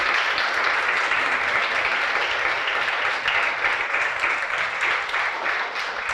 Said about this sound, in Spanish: Le da un aplauso de alabanza a Dios